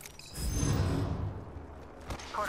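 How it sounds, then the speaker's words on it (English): Crypto's surveillance drone being recalled in the Apex Legends video game: a whirring mechanical whoosh with faint creaks that swells early, then trails off into a softer hum with a brief sharp accent near the end. "I'm recalling my drone."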